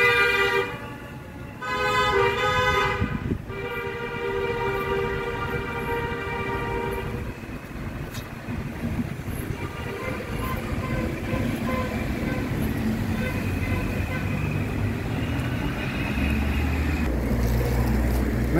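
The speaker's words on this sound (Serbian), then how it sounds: "Neka svadba i klinci voze u krug već par sati i trube." Car horns from a wedding convoy circling round and round honk in repeated toots and longer blasts over a steady roar of traffic and engines, strongest early on and continuing beneath a dense street din.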